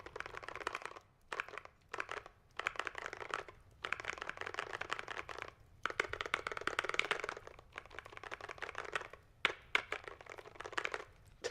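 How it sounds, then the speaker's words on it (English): Furious typing on a computer keyboard during a League of Legends match, rapid clattering key bursts in close, loud flurries separated by short pauses. "Sochi rage typing in League ASMR"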